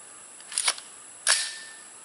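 An AR-15 pistol fires at a shooting range. Two sharp, bright cracks come a little under a second apart, the second with a short ringing tail, close up and heard alone.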